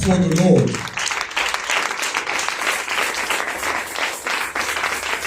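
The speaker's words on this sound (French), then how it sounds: "Acclamons très très très fort pour les Seigneurs" A church congregation applauds loudly and steadily, dense sustained clapping throughout, with a voice speaking briefly at the start.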